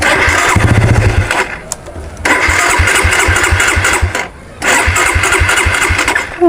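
A Suzuki Satria FU motorcycle engine cranks and sputters near and loud in repeated start attempts, catching briefly in rough bursts that cut out and restart, with short pauses between tries.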